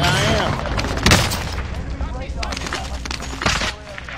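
Sniper rifle fire in Call of Duty: Warzone: two sharp, booming shots about two seconds apart cut through dense, busy game noise.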